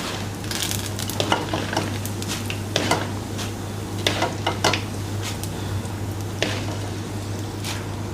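Mushrooms fry in hot oil with a steady low sizzle, punctuated by scattered clinks and scrapes of a utensil against the pan and a constant low electrical hum, close and moderately loud without talking.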